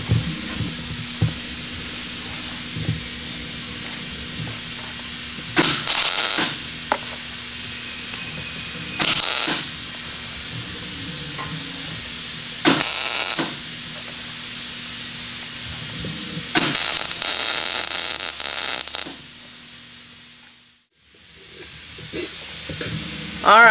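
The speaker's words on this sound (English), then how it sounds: "what we're going to do is just start welding it together" Metal welding on a jet boat build: a steady crackling hiss runs throughout, broken by several brief louder bursts of noise, then fades out near the end.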